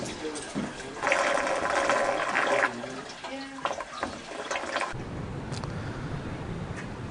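Water rushes out of the storage pond at the Woodbridge Tide Mill in Suffolk, a steady near roar with shifting gurgles and splashes and a few brief knocks partway through.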